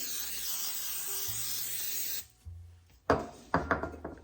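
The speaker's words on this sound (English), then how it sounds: "Now, I'm going to spray our pan." A steady hiss of cooking spray sprayed into a cake pan for about two seconds, then several sharp scraping and clattering sounds close by.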